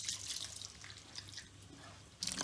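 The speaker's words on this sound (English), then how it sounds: "we're just letting again the water run from the root area down to the actual ends, ensuring that we're rinsing out all of that shampoo" Tap water runs steadily while shampoo is rinsed out of a human hair wig, a continuous close splashing and trickling with no speech.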